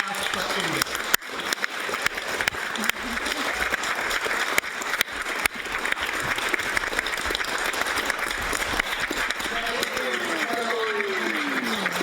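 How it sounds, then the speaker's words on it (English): A theatre audience applauds the cast of a centenary play staged by the Parliament of Western Australia, with steady sustained clapping throughout and a faint murmur of voices underneath. "please keep the applause going for the fine cast for Edith"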